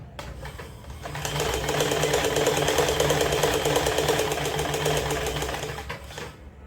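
A Stitch Queen sewing machine runs an overlock stitch along a saree fall, giving a fast, even mechanical chatter that holds steady for about five seconds before winding down, close and loud with no talking.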